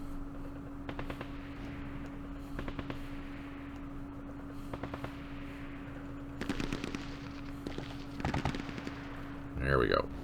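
Artillery and machine-gun fire from the Campaign Series Middle East war game come as quick rattling bursts at moderate volume over a steady electronic hum. A louder burst comes near the end.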